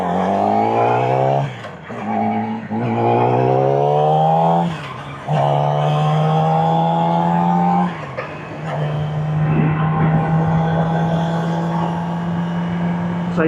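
A Yamaha R6 motorcycle engine revs hard and loud through a series of upshifts, each rising whine breaking off at a gear change before climbing again, heard up close from the rider's position.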